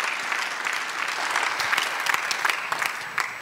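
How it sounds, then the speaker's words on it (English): Audience at a tech conference opening plenary session applauds the panel guests on stage, a steady wash of many hands clapping with a few sharper claps standing out, fairly close and sustained throughout. "Give them a brief applause for the beginning."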